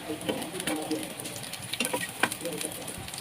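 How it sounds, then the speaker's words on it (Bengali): Onions fry and sizzle in a pan while being stirred constantly, a steady close hiss broken by soft scraping strokes and small pops, without any speech. "পেঁয়াজগুলোকে অনবরত নেড়ে চেড়ে ভাজতে হবে"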